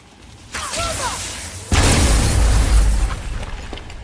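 A glowing crystal shattered in God of War gameplay: a whooshing build with bright glassy tinkles, then a loud, deep booming burst of breaking that rumbles and fades over a couple of seconds.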